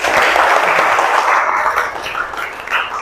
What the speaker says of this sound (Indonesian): tepuk tangan untuk Denis